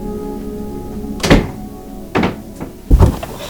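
A door is pushed shut in a house, giving three heavy wooden thuds spaced about a second apart, close and loud over a low background hum.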